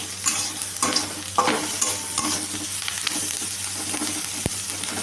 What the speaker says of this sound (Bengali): ভালো করে ভেজে নিচ্ছি এগুলোকে।